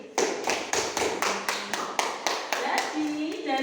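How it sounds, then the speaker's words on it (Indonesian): Students in a classroom clap in a rhythmic pattern of about ten sharp, evenly spaced bursts, close and loud, with a voice briefly rising near the end. "Kasih tepuk tangan lagi."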